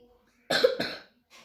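A single short cough, two quick harsh bursts close to the mic, followed by silence and a faint breath.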